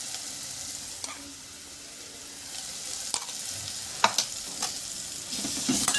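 Onions frying with ground masala paste for mutton keema, a steady sizzle under occasional stirring scrapes and clinks of the spoon, close by and with no talking.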